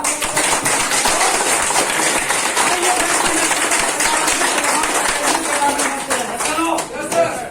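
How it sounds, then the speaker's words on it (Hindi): A seminar audience at a roadside dhaba in India breaks into loud, sustained group clapping that continues steadily for several seconds before tapering slightly at the end. "एक बार जोरदार ताली के साथ"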